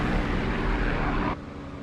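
Spitfire LF Mk. IX piston engine in the flight simulator DCS World, a steady, loud droning roar that drops abruptly to a quieter hum near the end, with no voices.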